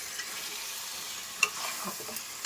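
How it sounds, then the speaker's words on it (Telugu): Chicken is stirred into tomato gravy in a pan, a faint low sizzle with a few soft scrapes and taps of the spoon, quiet and close, no speech. "అంటే పూర్తిగా మనకి కింద టమాటా గ్రేవీ ఇదంతా కలిపేటట్టు పూర్తిగా చికెన్ని మనం బాగా కలిపేద్దాం."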